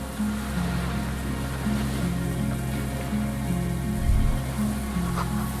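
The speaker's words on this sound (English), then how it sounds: "The distant sound of cargo ships' signal horns echo on the water." Distant cargo ship signal horns echo across the water in the Disco Elysium game, heard as low, sustained, overlapping tones over a steady wash of waves and ambient noise.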